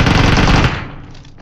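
A loud, fast burst of automatic gunfire in a Warzone-style shooter game, close and rattling for over half a second before cutting off into a fading echo.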